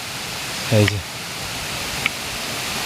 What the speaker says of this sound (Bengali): দেখছেন ঝর্ণাটা একদম উপর থেকে চলে আসছে